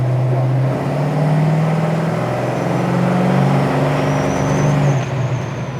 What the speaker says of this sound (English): Nice firm shift coming from that C6.